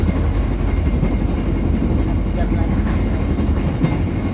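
Bangunkarta passenger train heading toward Senen station in Jakarta, a steady rumbling carriage interior with low rolling drone and faint clattering, with voices murmuring in the background.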